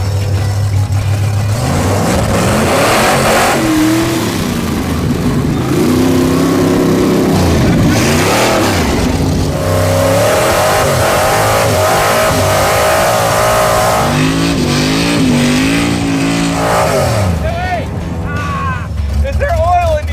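An old drag race car engine revs hard and accelerates on a makeshift backyard test track, loud and close with surging, rising pitch. People talk over the engine throughout.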